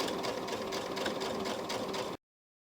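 A sewing machine stitches in the ditch along a seam on a pieced fabric pocket for a bag, a close, steady rapid whirring chatter that runs continuously for about two seconds, then stops abruptly into silence.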